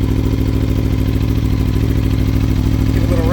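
A 2017 Aprilia Tuono Factory 1100 motorcycle engine runs cold, close and loud, with a steady throbbing idle and a brief light blip of revs near the end.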